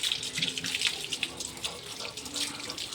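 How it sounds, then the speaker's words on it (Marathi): Water runs steadily from a hose during a small child's bath outdoors, a continuous close splashing hiss with no talk over it. "पाणी खूप वाया चाललंय अतुल."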